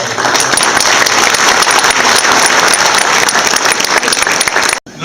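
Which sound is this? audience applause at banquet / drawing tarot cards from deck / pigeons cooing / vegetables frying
audience applause at banquet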